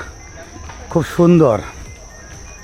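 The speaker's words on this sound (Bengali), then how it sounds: "দিনের বেলায় কিন্তু ঝিঝি পোকার ডাক শোনা যাচ্ছে" Daytime crickets at Jinda Park in Rupganj, Narayanganj: a thin, continuous high chirring trill holds steady throughout, while a person speaks briefly over it near the middle.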